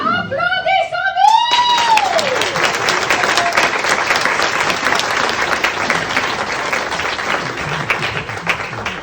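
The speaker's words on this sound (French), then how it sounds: "Applaudissez-nous!" Theatre audience at a café comedy show bursting into loud, dense applause with some cheering right after a performer's sung line, the clapping sustained and close throughout.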